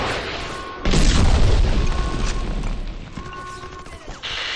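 A grenade or RPG blast in a war shooter game erupts as a loud, low boom about a second in, its rumble trailing off over several seconds of background game noise.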